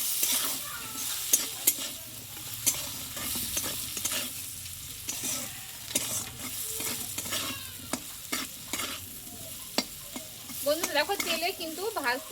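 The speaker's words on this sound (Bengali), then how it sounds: "এবার সব মিশ্রণগুলো দিয়ে আমি এইভাবে একটু নাড়াচাড়া করতে থাকবো" Thinly cut potatoes fry in a generous amount of oil for a Bengali tiffin dish, giving a steady close sizzle broken by repeated scrapes and knocks of a spatula stirring the pan.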